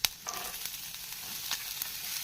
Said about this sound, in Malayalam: സവാളയും പച്ചമുളകും ഇട്ട് കൊടുക്കാം കേട്ടോ